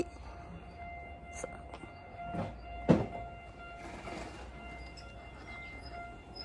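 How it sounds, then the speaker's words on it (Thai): A train passing near a canal-side spot, heard as a low rumbling roar with a brief horn-like tone and rising clatter, moderately distant, with faint voices in the background. "รถไฟมา"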